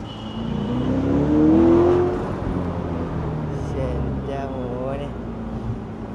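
Red Chevrolet Corvette Stingray engine revving up loudly, swelling then settling into a steady idle hum, with someone talking over it.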